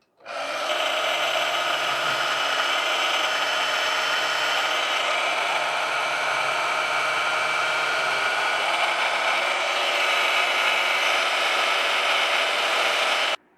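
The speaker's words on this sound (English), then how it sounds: "cut it out on my homemade portaband table saw bandsaw conversion" A homemade Portaband bandsaw table conversion cuts out a steel frame connector part for an LS V8 swap, a steady, loud whining buzz of the blade running continuously through the material without pause.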